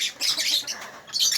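Pigeons squawk during feeding, a few raspy bird calls in quick succession, close and fairly soft.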